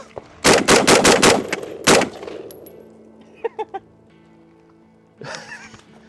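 A rapid burst of about six loud shots from a Heckler & Koch HK 243 rifle rings out, followed by a lingering echo, a few fainter sharp knocks, and then a short voice.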